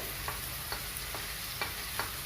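Ginger and garlic, one spoon each, go into onions frying in a pan for a prawn malai curry, making a steady sizzle broken by about five rhythmic stirring scrapes.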